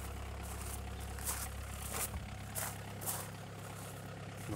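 Car engine idling steadily right after its first start following a major overhaul, a close, continuous low rumble with a few brief louder blips along the way, no voices over it.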